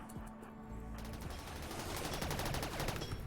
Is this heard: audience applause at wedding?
no